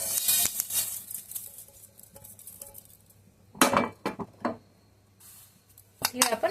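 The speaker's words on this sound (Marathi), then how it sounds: "तीळ पण आपले छान भाजले गेलेले आहे तिला आपण वेगळ्या डिशमध्ये काढूया" Roasted sesame seeds are tipped from the pan into a separate dish with bursts of metallic clinking and a patter of seeds, between quieter stretches, with faint background noise.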